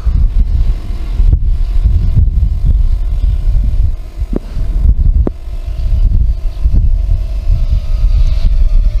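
Strong gusty wind buffets the microphone of a Heliway 913 drone in flight, producing heavy low rumbling bursts that swell and drop irregularly, with faint motor whine beneath.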